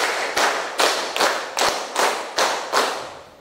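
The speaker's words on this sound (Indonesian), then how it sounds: "Kali lagi ya, tepuk 2 kali." A class claps in a steady rhythm, sharp group claps landing in pairs and repeating about every half second, crisp and close, with no talking over them.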